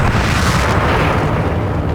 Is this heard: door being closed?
no